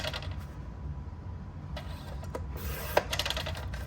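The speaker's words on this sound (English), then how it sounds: "So I just keep sliding it to that mark. And I'm just gonna cut the whole sheet." A paper trimmer slices through a whole sheet of paper: a quiet, dry rasping slide with a few soft scraping strokes and a small click near the end, close by, with no talking.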